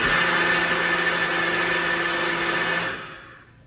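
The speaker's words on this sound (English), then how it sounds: "You could also do it in any kind of blender. I love the NutriBullet though." A NutriBullet blender mixing chaga tea runs at a loud, steady whir for about three seconds, then shuts off and winds down into silence.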